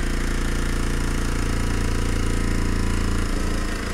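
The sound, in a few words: small steam engine running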